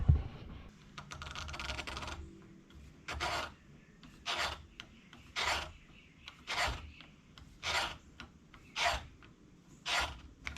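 A valve seat cutter making a 30-degree cut in an engine cylinder head, a steady series of about eight rasping scrapes at an even rhythm, close and fairly loud, after an opening stretch of softer scraping.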